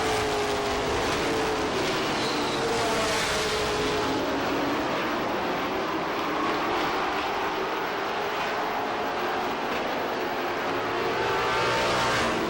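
Pro stock race cars roar around Lee USA Speedway during a 100-lap feature, a continuous dense engine drone with passing cars rising and falling, loud and steady throughout.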